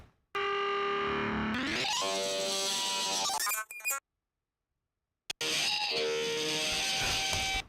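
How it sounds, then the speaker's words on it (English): A musical audio sample gets pitched up and down with no time-warping, so its speed and pitch shift together in squeaky, distorted sweeps. A sudden dead silence of over a second cuts in before the sound resumes. "pitching it up and down without any warping"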